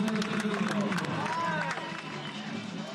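Crowd at a women's skateboarding World Cup semi-final in Ostia Park, Rome, cheering and clapping in a steady, distant roar with a voice talking over it.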